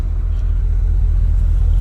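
A Porsche Cayenne Turbo 958 idles with its exhaust running, a loud close steady low rumble with no change in pitch.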